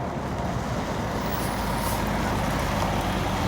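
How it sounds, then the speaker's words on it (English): A couple of trucks drive past near a railroad crossing, a dense, loud, continuous roar of engines and tires that stays close throughout. "A couple of trucks going by."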